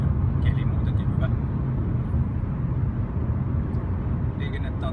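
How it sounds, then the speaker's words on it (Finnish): Steady road rumble of cars driving on a road in Lapland, a constant broad low drone with faint higher ticks, heard from close inside a moving vehicle. "Liikennettä on tämän verran näkyy, että muutamia autoja tässä on näkyy sillä koko ajan"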